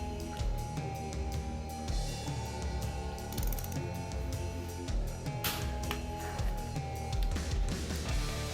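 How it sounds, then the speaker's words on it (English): Ratchet wrench tightening engine bolts on a Polaris engine being reassembled, with repeated quick clicking ratchet strokes in a steady mechanical rhythm, close and clear with no talking. "So let's go ahead and get this tightened down then."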